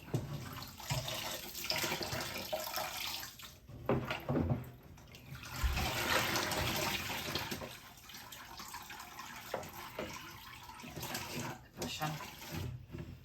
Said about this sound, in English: I'm gonna rinse it one more time.